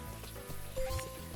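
Rain ambience from the game Ty the Tasmanian Tiger, a steady hiss of falling rain with a faint tonal line and a soft low thump, heard briefly and alone.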